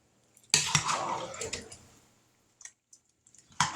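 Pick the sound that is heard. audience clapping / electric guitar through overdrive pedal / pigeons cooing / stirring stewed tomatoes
stirring stewed tomatoes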